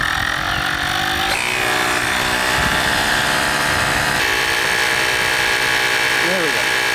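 Two battery-powered portable air compressors, an ASMAX T10 and a Fanttik S100, run together with a loud, steady buzzing drone that shifts in pitch a few times and lasts throughout.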